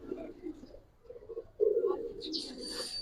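Pigeons at a loft give soft low cooing in short bursts, fairly close but quiet, with a higher chirping call rising near the end.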